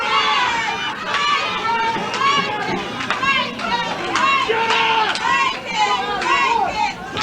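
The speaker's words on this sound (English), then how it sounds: "this crowd has absolutely gone mad" A wrestling crowd at a UWA show goes wild, with many high, excited voices shrieking and cheering together in a dense, continuous roar that swells and dips throughout.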